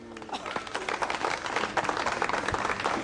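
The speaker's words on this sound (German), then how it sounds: "So, ein Beifall für die Schirmherrin." Crowd applauding the patroness at a German horse show and carriage driving event, a steady patter of many hands clapping with a voice talking over it.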